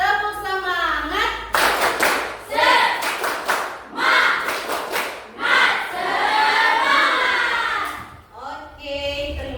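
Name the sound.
class doing the 'tepuk semangat' clapping chant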